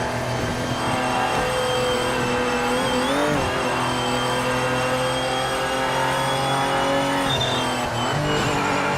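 A race car engine in the Project Motor Racing video game drones loudly and steadily throughout, its pitch dipping and shifting around the three- and eight-second marks as it downshifts, with no voices over it.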